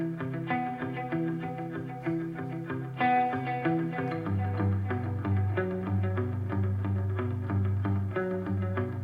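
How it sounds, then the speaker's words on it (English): Plucked guitar chords drenched in delay and reverb for a lofi beat, notes ringing and overlapping in a spacious wash, with a deeper sustained bass tone joining partway through; no voices. "we just started off with me plucking out those chords, and then I went and added some more effects in Logic"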